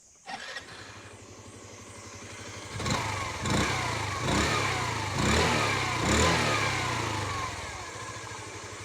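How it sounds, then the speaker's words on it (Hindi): A 2025 Hero Xoom 125 scooter engine starts with a sharp crank, settles into a steady close exhaust note, then gets a few short throttle blips that rise and fall. "मैं आपको इसका पहले एग्जॉस्ट साउंड सुना दूँ।"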